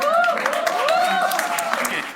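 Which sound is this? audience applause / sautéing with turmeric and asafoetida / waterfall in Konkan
audience applause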